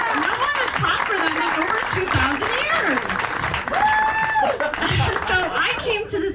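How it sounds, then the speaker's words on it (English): Audience applause and clapping at a live comedy show, a dense wash of claps under a speaker's voice that keeps talking over it, with some light laughter. "Yes, please clap for them. Clap for the Greeks."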